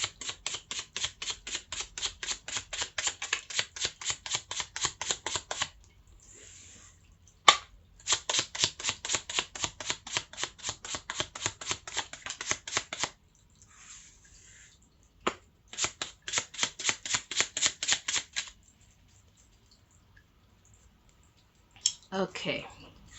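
Cards being shuffled in quick riffling bursts, several rapid flutters of close crisp clicks separated by short pauses, quiet and alone without talk.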